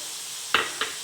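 Vegetables and chicken sizzle softly in a pan as green chili is added, with two quick stirring clatters near the end over the faint, steady frying hiss.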